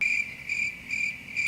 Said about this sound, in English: it's fucking crickets right now because they know Myron is speaking facts